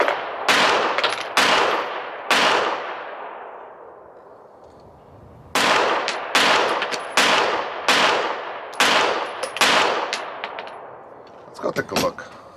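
Shots from a Smith & Wesson M&P 2.0 Metal pistol at a range, about ten sharp loud reports with ringing decay, fired in two groups separated by a pause, with some metallic clatter at the end.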